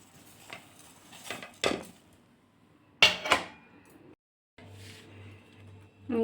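Jaggery and white sesame stirred together in a pan, with a few sharp metallic scrapes and clinks of a utensil against the pan, coming in short bursts separated by quiet gaps.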